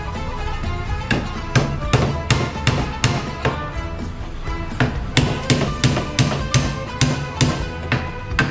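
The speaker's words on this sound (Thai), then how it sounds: "เราก็ตอกมันเลยครับ" Hammering on wooden slingshot parts, a series of sharp, fairly close taps and knocks, irregular at first and then settling into a quicker, steadier rhythm.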